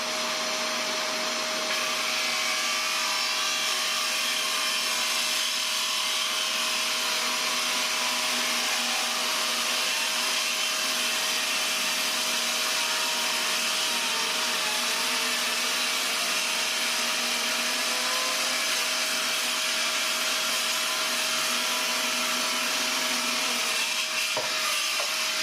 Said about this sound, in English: We're going to go straight to testing this thing at its maximum cut depth, which is around the 40mm mark.